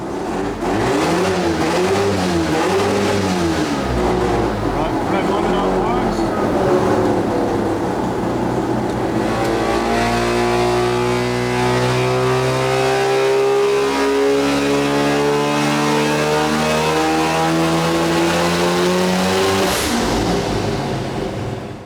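Mazda RX-7 FD rotary engine running on methanol on a build in progress, loud and close, wavering at idle before a long rising pull that climbs steadily in pitch, then drops away near the end.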